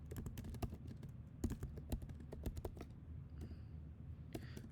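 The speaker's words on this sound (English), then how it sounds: "So we'll do this by simply typing the keyword for the type of integer" Quiet, rapid clicking of a computer keyboard as someone types code, a steady run of light close keystrokes with a softer lull near the end and no speech.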